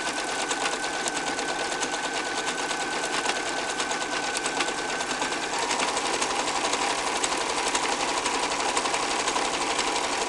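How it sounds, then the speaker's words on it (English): A sewing machine runs steadily, stitching a mock flat felled seam through towel fabric; the whirring motor and rapid needle rhythm continue nearly unbroken at close range with no talk. "To sew it, I go over a little bit."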